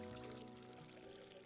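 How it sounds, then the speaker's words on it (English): Tea poured in a cat-themed tea-making video game, a steady liquid pour with a soft trickling texture running continuously for a moment over a faint background tone. "So you pour. Hold to pour."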